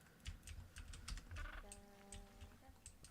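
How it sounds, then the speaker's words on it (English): Single mouse clicks while building terrain and painting sand in Planet Zoo: a quick patter of sharp, light clicks, close to the microphone, with a brief tonal in-game chime partway through and no talking. "Just clicking, like single clicking for the sand to come in."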